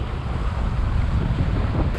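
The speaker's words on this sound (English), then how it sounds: "It's so windy right now, but it is still super fun." Strong wind blasts the microphone on a fishing outing, a loud continuous rumbling buffet with no pauses and no talking.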